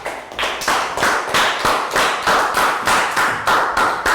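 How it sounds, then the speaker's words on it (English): Year 3 math class giving a round of applause, a steady run of hand claps at an even, fairly quick rhythm throughout, close and moderately loud with no talking. "And round of applause for everyone."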